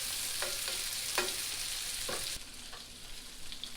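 Minced garlic sizzles steadily in a hot pan, a close, even crackling hiss broken by a few brief stirring scrapes, with no voices.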